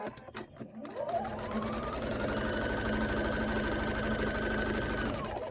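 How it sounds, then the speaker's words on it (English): Sewing machine stitching quilt pieces for flying geese blocks, a close, steady whirring run of rapid needle strokes that starts after a brief fumbling of fabric and holds evenly for several seconds before stopping. "I'm going to start sewing right on the line."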